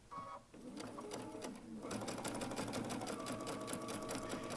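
A Baby Lock Altair sewing machine runs a straight stitch with a gathering foot, whirring steadily and close by with a fast, even mechanical chatter that picks up and grows louder partway through.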